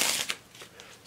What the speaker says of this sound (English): that's a riffle shuffle